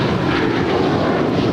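An Air Canada airliner takes off from runway 25 right at Los Angeles airport, its engines producing a loud, steady broadband roar that fills the whole moment without a break.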